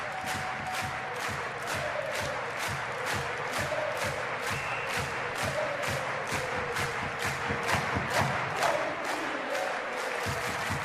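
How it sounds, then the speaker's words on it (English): A large ice hockey arena crowd at Löfbergs Arena roars and applauds after a Färjestad win over HV71, steady dense clapping and cheering filling the hall with no talk over it. "Big crowd here in Lofberg's Arena"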